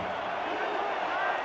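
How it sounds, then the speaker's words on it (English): A football crowd in Vancouver roaring in a steady, dense wash of noise that holds for the whole stretch, with a voice blended faintly into the din. "Crowd is roaring in Vancouver"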